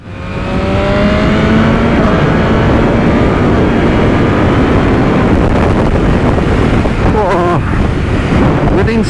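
A BMW M1000RR sport motorcycle with a quick shifter accelerates hard through the gears, its engine note rising and dropping with each upshift under heavy wind roar, loud and close.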